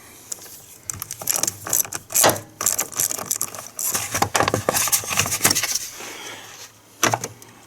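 Ratchet turning to loosen the 10mm nut on the positive battery terminal of a GMC Sierra or Chevy Silverado, close-up metallic clicks and clinks in irregular bursts with brief pauses.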